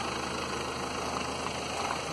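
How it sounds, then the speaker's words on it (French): A taxi engine idles in a video game with an odd-sounding, even drone and slight vibration, steady and fairly faint with no talking. "C'est un bruit bizarre son moteur d'ailleurs"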